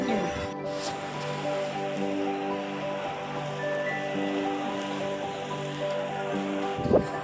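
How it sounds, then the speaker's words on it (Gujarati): Steady rain patters and hisses over a constant hum, with a few faint knocks and bumps nearby. "જો વરસાદ ચાલુ થઈ ગયો છે"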